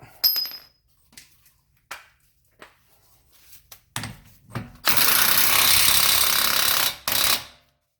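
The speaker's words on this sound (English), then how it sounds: "So just gotta run in our axle nut and torque that to spec." An impact tool runs an axle nut onto an 8th-generation Honda Civic during an output shaft seal job, with a few short clicks first, then a long loud continuous rattling burst near the mic and a second short burst.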